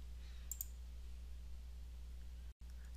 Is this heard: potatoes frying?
no